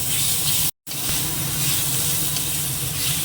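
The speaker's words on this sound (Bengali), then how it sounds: "একটুখানি জিরে দিয়ে দেবো এবারেই মাথাগুলো মাথাটা ভেজে নিয়ে যাবে" Fish heads frying in hot oil with cumin and dried chilli, giving a loud, steady close-up sizzle and hiss that cuts out for a split second, then carries on without speech.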